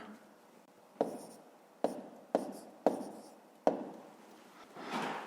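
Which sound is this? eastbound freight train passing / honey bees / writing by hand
writing by hand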